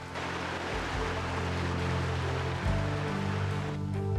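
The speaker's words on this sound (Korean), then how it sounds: "세찬 비가 내리치는 가운데" Heavy rain during the rainy season pours down in a dense, constant wash of noise, with a low drone beneath it that grows a little louder partway through.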